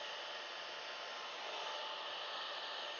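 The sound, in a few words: hair dryer drying acrylic paint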